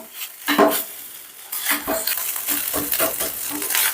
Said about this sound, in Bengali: আমি একদম গুঁড়ো করেই ভেজে নেব